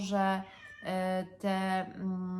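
A house cat meows three times in quick succession, loud and close, each call drawn out and tonal, with a person's brief murmured speech around them.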